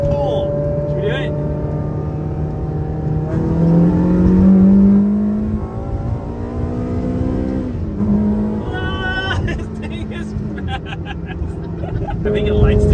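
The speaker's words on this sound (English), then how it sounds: "That was my first time pressing the throttle all the way." A Ferrari supercar engine, driven on a road trip across Japan, revs up under full throttle, its loud tone rising through gears with shift breaks, close and dominant, while people talk over it.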